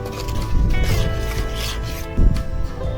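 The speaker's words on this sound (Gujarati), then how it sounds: "હવે આપણે નાખીશું ડુંગળી. એને પણ હળવેથી હલાવી લઈશું." Chopped onion is added to Maggi noodles and stirred in a pan, giving close, continuous scraping and rubbing strokes with a louder scrape near the end. Faint steady tones run underneath.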